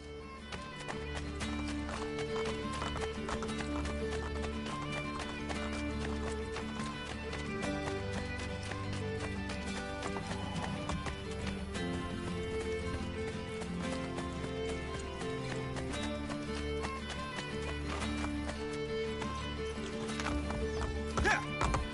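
Horse hooves clip-clopping at a gallop in the Assassin's Creed Brotherhood video game, a steady drumming rhythm mixed with orchestral game music and an occasional whinny, loud and continuous throughout.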